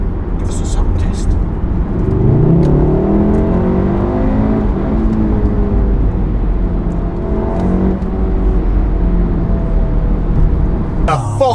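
Volkswagen Golf Mk7 R engine in race mode revving and pulling hard, a loud continuous drone rising and falling in pitch through gears, close up inside the car with a voice briefly over it.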